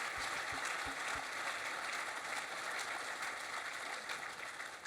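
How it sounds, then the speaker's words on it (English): A seated audience at a live cycling talk with riders Mark Cavendish, Mark Renshaw and Robbie McEwen claps in a dense, steady wash of applause that carries on throughout and tapers slightly at the end. "Give them a round of applause."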